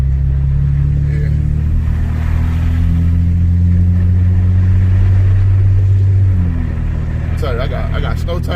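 Car with snow tires driving through snowy city streets during a snowstorm, a loud steady low engine and road rumble that shifts in pitch near the end, with talking inside the car.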